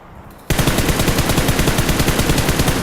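Sustained automatic gunfire in a multiplayer shooter video game, a loud rapid stream of evenly spaced shots that starts abruptly after a quiet moment and keeps going without a break.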